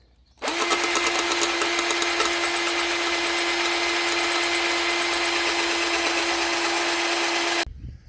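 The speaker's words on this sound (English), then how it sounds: "So I drilled this bolt." A power drill bores through a bolt on a Toro racing mower, a loud, steady high-pitched whine that runs unbroken for about seven seconds before stopping abruptly.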